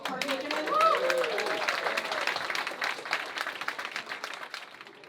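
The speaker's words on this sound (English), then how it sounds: "Can we please have a round of applause for the meal that we have just partaken in?" An audience at a shared meal in a backyard neighborhood for the unhoused applauds, a burst of clapping swelling quickly then fading gradually, with a voice briefly heard at the start.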